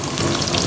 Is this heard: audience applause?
no